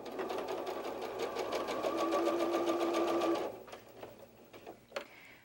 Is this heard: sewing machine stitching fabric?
yes